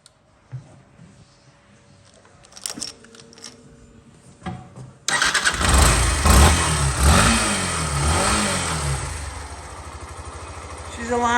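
A Yamaha YS125 motorcycle with a weak battery and fuel trouble cranks with a few short, faint attempts, then catches and roars into a loud, steady idle with a couple of revs, close by.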